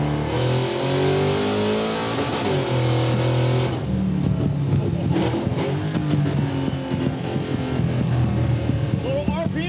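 A supercharged six-wheel Chevy C10 rated around 900 hp revs loudly, its engine note rising and falling over a continuous roar, with people talking over it.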